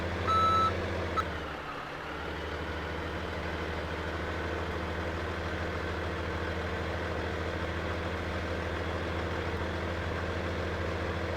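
Kenworth truck reversing in Farming Simulator 17, its backup alarm beeping in a steady repeated pattern over a low idling diesel rumble, with a short clunk early on.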